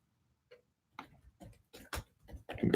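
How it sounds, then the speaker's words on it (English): Light clicking taps of typing on a keyboard, irregular bursts of keystrokes, close and quiet, growing busier at the end. "the sound you hear is the typing fingers as we're pumping out the stories"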